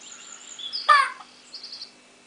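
Chicken sound effects from the mobile game Chickens Can Dream on a Samsung Omnia 7 phone: a sharp, bright cluck-like chirp followed by a short run of softer tweets, clean and alone over near silence.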